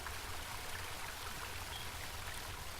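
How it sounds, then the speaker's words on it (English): A river in the video game Home flows with a soft, continuous watery rush, faint and even throughout, with no voices over it. "There's the river."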